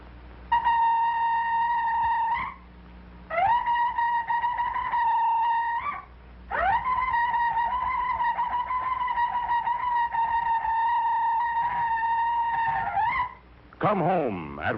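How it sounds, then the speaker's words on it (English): A shofar, the ram's horn instrument, sounds three long sustained blasts, each swelling in at the start and ending with a short pitch bend, played alone and fairly loud, followed by a brief wavering tone at the end. "I have fashioned for myself an instrument made from the horn of a ram"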